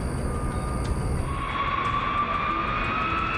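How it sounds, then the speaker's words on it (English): US Air Force F-15 jets taking off from a base during a red alert, a loud continuous jet engine roar with a rising whine, steady and fairly close, no voices. "every aircraft on the base must take off immediately."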